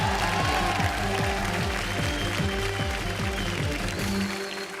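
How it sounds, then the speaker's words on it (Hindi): A television comedy studio audience applauds for a female guest, clapping blended with loud rhythmic music with a thumping beat that dominates the short stretch. "आलिया के लिए जोरदार तालियां।"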